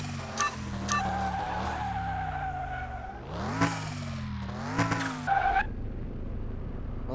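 Car skidding in the racing scenes of Car Mechanic Simulator 2021, pulled with handbrake and throttle: a steady engine drone broken by several sharp, rising tire squeals that swell and cut off.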